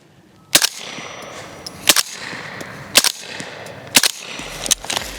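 A suppressed MP5 SD fires subsonic 115 grain 9mm rounds into a berm, five sharp muffled reports spaced about a second apart, each a short crisp crack with a brief tail, fairly close and loud.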